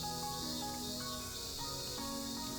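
Noisy cicadas in a blazing summer scene from the visual novel Narcissu: a steady, quiet, high-pitched buzzing drone that holds unbroken throughout.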